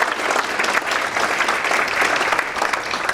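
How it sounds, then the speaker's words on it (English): A dense, steady round of applause from an audience at the 2013 Pleasant Hill Mayors Breakfast, loud and continuous throughout with no pauses. "So let's give ourselves a big round of applause"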